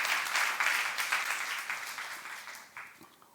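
A church youth congregation breaks into applause during a sermon, a fairly strong burst of clapping that gradually thins and fades, ending with a few isolated claps.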